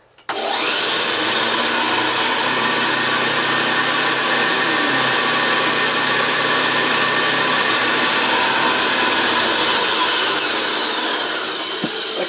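A refurbished JaxVax Senior vacuum cleaner switches on and runs steadily over carpet picking up Cheerios, a loud continuous motor whine with faint rattling pickups, cutting off at the end.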